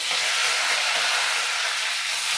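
Green chillies and curry leaves sizzling in hot oil, a steady, loud, bright hiss that holds evenly throughout without pause.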